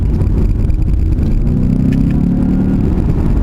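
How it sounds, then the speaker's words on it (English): A 2018 Ford Fusion Sport in sport mode with paddle-shifted gears. The engine drone is loud and close throughout, its pitch climbing as revs rise through the middle of the stretch, and no one speaks. "let's put it in sport mode real quick and test out the paddles"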